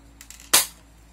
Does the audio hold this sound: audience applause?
no